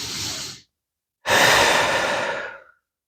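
Two slow, audible breaths during a gentle yoga core exercise, a short exhale followed after a pause by a longer, airy sigh-like breath, close and alone with no talking.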